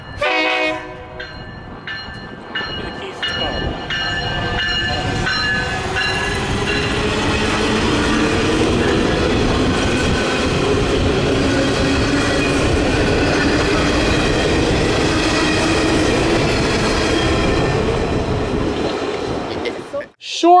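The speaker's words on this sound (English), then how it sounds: "a Metro electric train showed up only a few minutes later" A Metra electric train rolls past close by, its horn sounding early, then a steady loud roar of wheels and rails before it fades abruptly.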